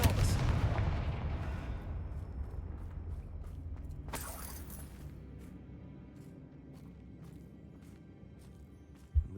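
An Expelliarmus spell is cast in Hogwarts Legacy, opening with a loud booming blast that slowly fades into a low rumble. A brighter crack follows midway, then faint clicks and a short sharp hit at the close.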